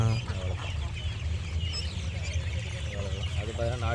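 Country chickens cluck nearby in a farmyard, with repeated short calls over a steady low hum and people talking in the background.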